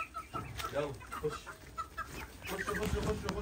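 Chickens and a rooster clucking close by on a farm, with scattered irregular clucks and squawks and someone briefly speaking over them.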